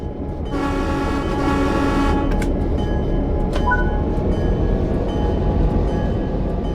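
Locomotive engine under throttle in the Train Sim World 3 video game, a steady loud low rumble throughout, with a sustained horn-like tone early on and a couple of brief metallic clanks.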